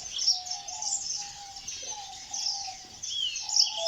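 A red-fronted bisbous bird calls close by in an Iraqi bird reserve, giving high rapid chirps and tweets over a thin sustained whistled tone that breaks off and resumes, with no voices.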